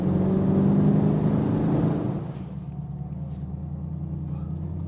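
A TVR Chimaera 500 engine roars loudly under acceleration, then the pitch and volume drop as the car shifts gear and settles into a lower, steadier drone.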